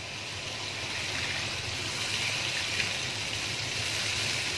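A glass of water poured into a pan of fried minced meat keema with tomato ketchup, giving a steady, soft gushing splash that runs evenly for a few seconds with no talk.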